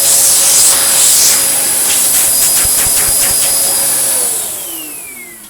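Dyson DC01 upright vacuum cleaner running on carpet after refurbishment, a loud steady whining roar with the brush roll thumping, close up, winding down slightly at the end.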